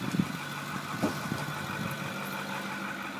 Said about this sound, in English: Truck runs good.